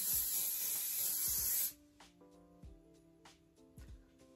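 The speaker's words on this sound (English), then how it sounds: "and spray it in place." Hairspray from an aerosol can misted onto teased hair roots, one loud, steady hiss lasting over a second before it cuts off, leaving soft rustling and faint background sounds.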